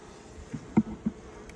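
Honeybees buzz around a hive during a cool-morning inspection of a new package colony, a soft low drone with a few brief closer buzzes as individual bees fly past.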